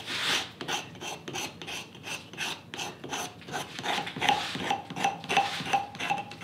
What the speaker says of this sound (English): I take my scraper, apply it to the bruised area